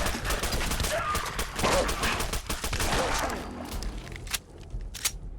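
Rapid gunfire in Fallout 4, a fast dense string of shots through most of the stretch, then a few spaced single cracks toward the end, loud over game ambience.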